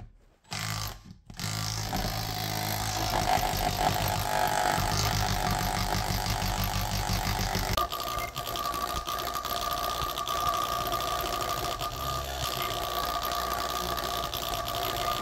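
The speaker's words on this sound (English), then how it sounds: "When I got back, I got this on my hammer drill. We just want it on hammer only." After a brief stutter at the start, a hammer drill on hammer-only mode rattles continuously and loudly against a Potterton Suprima boiler being flushed of limescale, a dense mechanical vibration that shifts tone midway and keeps going.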